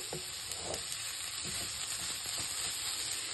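Beetroot fries over medium heat in a pan for a South Indian, Tamil Nadu-style poriyal, giving a steady, close hiss of sizzling with a few soft stirring clicks throughout.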